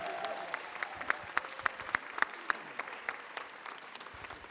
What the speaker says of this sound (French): on avait Elisabeth Parachini, je pense qu'on peut l'applaudir encore une fois.